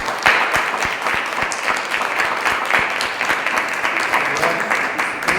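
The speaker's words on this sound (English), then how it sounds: "Can we get a round of applause?" An audience at a school committee meeting applauds a Gold Ribbon award, a steady round of many hands clapping with distinct sharp claps up close, some voices underneath.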